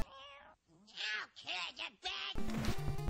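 Cartoonish cat meows and caterwauls from the Teenage Mutant Ninja Turtles Rescue Palooza video game repeat in several drawn-out, wavering calls, then give way to a loud burst of game sound.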